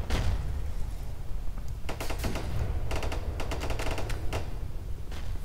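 Machine gun fire in the Armor Alley video game, repeated rapid bursts of rattling shots over a constant low engine-like rumble, loud and steady.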